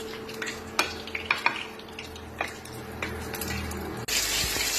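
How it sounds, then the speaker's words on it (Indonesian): Garlic and onion sauté in a pan with a low sizzle, punctuated by a few sharp clinks of a utensil stirring against the pan, and a brief louder hiss near the end. "kita akan tumis bawang bombay, bawang putih sampai harum"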